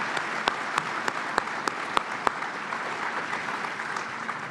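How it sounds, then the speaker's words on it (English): An audience at a 2024 Iowa caucus gathering applauds, a steady wash of many hands clapping with a few sharp nearby claps standing out, sustained for several seconds. "I'd like you to give them a big round of applause"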